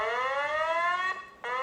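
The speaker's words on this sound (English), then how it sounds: "When the search and rescue alarm is activated at the Fort Macon boat station, crewmen head to their boats." Coast Guard search and rescue alarm sounding at the Fort Macon boat station: a steady, loud electronic tone with rising pitch that cuts off briefly near the end before resuming.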